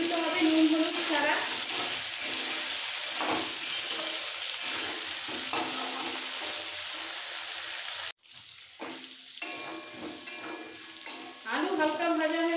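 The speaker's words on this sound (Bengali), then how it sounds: "এই তেলের মধ্যে আলুগুলো ভেজে নিতে হবে নুন হলুদ ছাড়া।" Potatoes frying in hot oil with no salt or turmeric added, a steady loud sizzle broken by occasional stirring scrapes, with a brief drop partway before the crackle picks up again.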